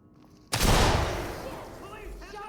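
A flashbang grenade detonates in the tactical shooter Ready Or Not: one sudden, loud, close blast with a long ringing decay, followed by faint voices beginning to shout.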